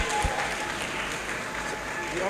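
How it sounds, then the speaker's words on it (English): Applause from an audience at a Federal Inland Revenue Service event, a steady, dense clapping that holds for a couple of seconds alongside a voice. "A round of applause for her"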